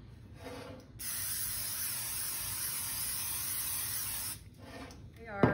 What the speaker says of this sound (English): Now we're going to spray our pan with some olive oil.